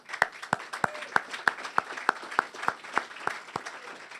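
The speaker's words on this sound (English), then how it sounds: "let's have a round of applause for David Zaslav and everybody at Discovery." Applause from an audience at a job skills initiative press conference, with distinct, evenly spaced loud claps in a steady rhythm standing out over a softer bed of scattered clapping, close and without talk.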